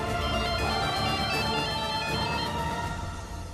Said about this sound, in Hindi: अद्वित को फोन करके बोलती हूँ, वो ही पता लगाएगा।